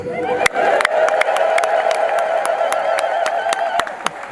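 A church congregation at a Marian feast day celebration breaks into loud, sustained ululation and cheering, a dense crowd roar with sharp claps and shouts cutting through, close and continuous.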